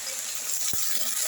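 A brief burst of water sprinkled into a hot pan of drumstick leaves, with a soft sizzle over steady cooking noise.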